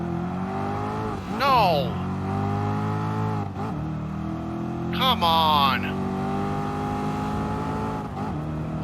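A Mustang and a Corvette race in the Gran Turismo video game, their engines droning steadily and rising and falling through two sharp gear-change sweeps, with someone talking over the racing.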